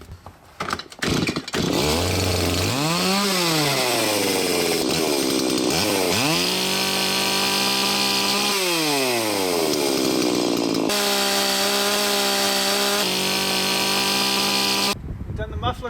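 A Stihl MS170 chainsaw with a modified muffler starts and revs in several loud rising bursts, then settles into a steady, buzzing high-pitched run close by before cutting off.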